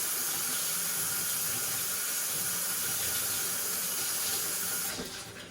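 Water from a kitchen tap runs steadily in a loud, close hiss while something is rinsed under it, and the flow cuts off near the end.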